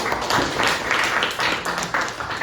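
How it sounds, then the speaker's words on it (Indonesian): Classroom applause for a student, a small group of hands clapping in uneven bursts throughout, moderately close and steady without talk. "Tepuk tangan buat kakak"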